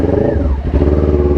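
A Kawasaki Ninja 400 motorcycle engine runs loud and close in neutral, a steady low rumble with a brief dip in the middle before the idle picks back up.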